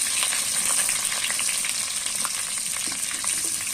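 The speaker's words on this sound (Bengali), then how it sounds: "এখন দিয়ে দিবে পেঁয়াজ আস্ত মশলা গরম মশলা এলাচি দারচিনি তেজপাতা গোলমরিচ এগুলো" Onion with whole garam masala spices (cardamom, cinnamon, bay leaf, black pepper) frying in plenty of hot oil, a steady dense crackling sizzle with faint stirring clicks, close and continuous without talk.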